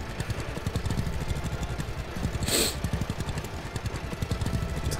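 A tractor engine chugs steadily in the farming game Farmer's Dynasty, a rapid, even, knocking idle with a brief hiss of air partway through, heard alone.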